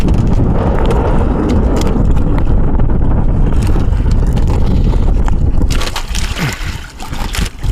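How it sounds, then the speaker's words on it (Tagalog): Strong wind at sea roaring and buffeting the microphone in a continuous heavy rush, with a low engine-like rumble beneath and gusts easing slightly toward the end. "Hangin lang ito, walang ulan. Oh, sobrang lakas naman."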